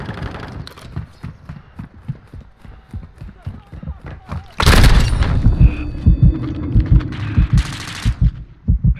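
A grenade blast in Call of Duty MWII, a loud booming explosion about halfway through with a long rumbling tail, preceded by rhythmic thumping and scattered gunfire, and followed by further shots and a voice calling out.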